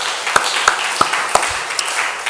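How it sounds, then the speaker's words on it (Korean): A church congregation gives a short round of applause: a few sharp, separate claps stand out over a soft wash of scattered clapping, then the sound thins out. "하나님께 영광의 박수 돌려드리겠습니다."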